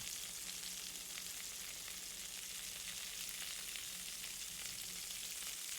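Steak sizzling in a pan in a cooking video game, a steady broadband frying hiss running unbroken and fairly loud, with a low hum beneath and no voices.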